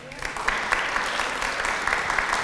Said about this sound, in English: Well, let's give Jack a round of applause.